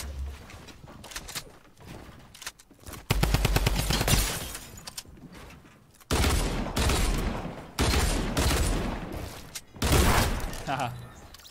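Dual pistols firing in a video game, heard as loud bursts of rapid shots in several separate volleys, each followed by a short lull. Someone talks between and over the gunfire.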